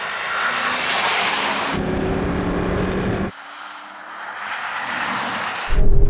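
Porsche 911 Dakar engine roaring hard through an off-road drag race on muddy ground, a loud continuous drone with an abrupt drop in pitch and level at a gear shift, then building again before a sharp surge near the end.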